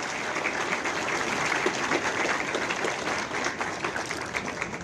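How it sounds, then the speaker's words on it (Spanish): Audience applause at a youth addiction-prevention event, a steady dense wash of many hands clapping throughout, fairly loud and continuous with no talk over it. "Quiero un fuerte aplauso nuevamente a todos ustedes"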